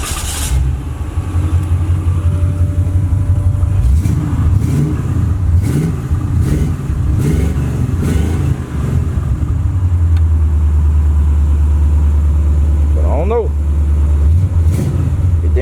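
A Chevrolet Cutlass with a 305 engine and 4.10 gears idles with a deep, loud rumble, then revs hard in several bursts before settling back to a heavy idle, with people talking over it.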